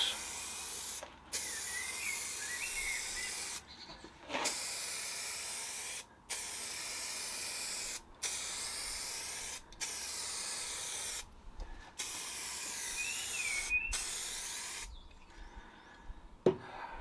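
A Mini car gets a respray, with a spray gun hissing in long continuous bursts broken by short pauses, close and steady with no talking.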